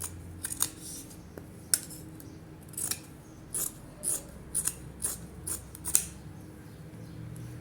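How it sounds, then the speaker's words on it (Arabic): Scissors snip fabric at the neckline of a summer dress being sewn, about a dozen short, crisp cuts in irregular bursts, close and fairly quiet against a soft room hiss. "نقص الرقبة ونروح لماكينة الخياطة بإذن الله"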